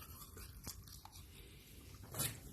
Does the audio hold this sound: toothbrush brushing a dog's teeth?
yes